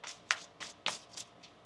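A deck of tarot cards is shuffled by hand in a quiet room, giving a series of crisp, papery riffs and taps spaced evenly, about five or six quick strokes close up with no voice.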